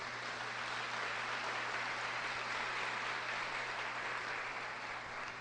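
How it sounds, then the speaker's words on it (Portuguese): Sustained applause from a congregation for the Benedictine monks of the São Bento monastery, a steady even wash of clapping heard from a distance at low level. "vamos dar um salva de palmas para eles"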